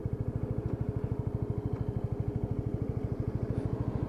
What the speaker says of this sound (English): just working back down the gearbox from clutch in back to first gear